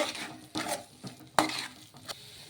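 A snack mixture is stirred in a pan: a few irregular scraping and clinking strokes, close and fairly quiet, with one sharper knock near the middle.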